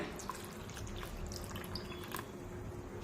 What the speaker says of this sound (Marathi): आणखीन एक वाटी पाणी आपण यामध्ये ऍड करूया